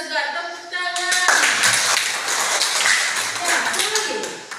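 Students in a classroom clap together after an answer, a lively, fairly close ripple of hand claps lasting several seconds, with a teacher speaking just before it begins.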